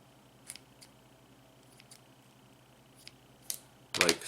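Scissors snip cotton wick for a Smok TFV8 vape tank, a few faint, sparse clicks close by followed by a louder cluster of crisp snips at the end, with no talking.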